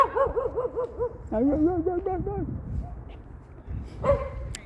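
Dog in a suburban neighbourhood barking and yelping repeatedly at a passer-by, a series of rapid, moderately close barks with whining tones, while a person talks over and between them outdoors.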